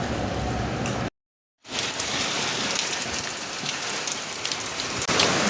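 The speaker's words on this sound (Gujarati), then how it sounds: "બહાર વરસાદ ચાલુ" Steady rain pours down outside in a dense, hissing wash of drops, briefly cutting to silence before resuming just as heavy.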